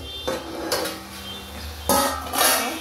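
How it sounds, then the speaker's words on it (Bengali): Metal pot lid lifted off a simmering water lily curry, then a spoon stirring against the pot, giving a few distinct clanks and scrapes with soft rustling between them, close and fairly loud. "এবার আবার ঢাকনাটা একটু খুলে আর একটু নাড়িয়ে নিই।"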